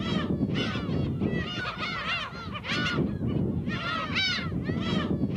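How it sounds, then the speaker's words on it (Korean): A flock of seagulls flying over the Dokdo rocks in the sea off Korea keeps up continuous loud, overlapping honking cries, dense and close, with no talk. "또한 그 위를 나르는 갈매기들의 울음소리도"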